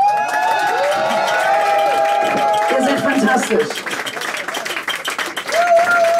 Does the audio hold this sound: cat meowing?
no